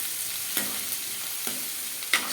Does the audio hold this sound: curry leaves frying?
yes